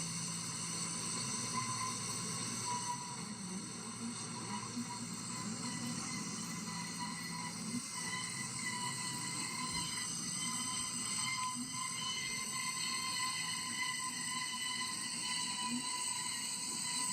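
A train on the Gartell Light Railway in Somerset runs past at a steady distance, giving a continuous rolling rumble with faint wheel squeal and hiss, fairly quiet and unbroken throughout, with no voices.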